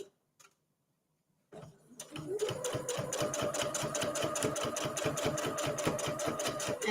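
A sewing machine stitches around the corner of a Christmas tree table runner, starting after a pause and then running steadily with a fast, even ticking rhythm, close and moderately loud.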